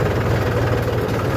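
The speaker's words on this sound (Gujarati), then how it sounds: "અમારું ટ્રેક્ટર કેવું જાય છે" A tractor engine runs nearby with a loud, steady, low throbbing drone and a continuous vibrating pulse, heard alone without speech.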